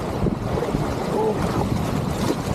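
Rushing river water and wind surround a kayak on the Guadalupe River in New Braunfels, Texas, a steady broadband wash with no talk, close and constant throughout.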